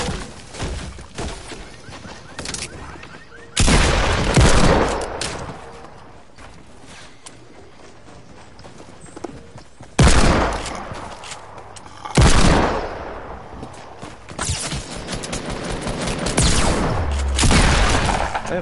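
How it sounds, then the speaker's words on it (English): Fortnite gunfire, with several loud bursts of shots and booms scattered across a busy game soundscape, some close and heavy, others quieter between them. "Somebody shooting at me."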